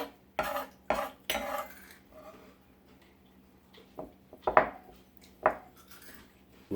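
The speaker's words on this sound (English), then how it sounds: "I'm going to mix that in with my fresh cut rosemary and thyme." Fresh cut rosemary and thyme being mixed in a bowl for a lamb Wellington, heard as a series of sharp clinks and scrapes of utensils against dishware, loud and close, with short pauses between strokes.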